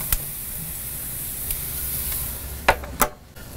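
Huli Huli chicken leg quarters sizzling on hot grill grates, a steady soft hiss with a few sharp pops and clicks near the end, close by and with no one talking.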